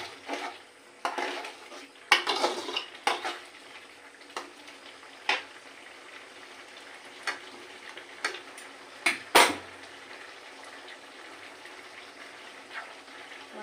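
A ridge gourd and shrimp curry simmers uncovered in a pan: a faint, soft bubbling crackle with scattered light pops and occasional clicks of a utensil against the pan.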